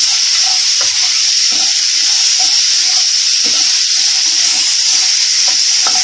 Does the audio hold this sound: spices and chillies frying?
yes